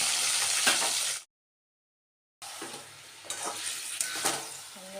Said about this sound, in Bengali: এখন চিকেনটা কষিয়ে নিচ্ছি, তারপরে মশলাটা দিয়ে নিই, পেঁয়াজের সাথে কষিয়ে নিচ্ছি।